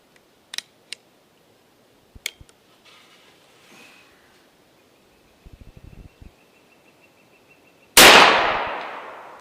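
An AEA Element Max .58 caliber air rifle fires once with a sudden loud, sharp blast and a quick decay, preceded by a few faint clicks and handling taps.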